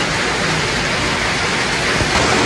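Heavy rain pours steadily just after an earthquake, a dense, loud, unbroken hiss with no pauses and no voices.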